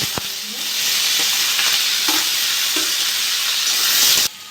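Boiled potatoes dropped into hot mustard oil with fried panch phoron give a loud, steady sizzle and hiss, with a few clinks of stirring, and the frying stops abruptly near the end.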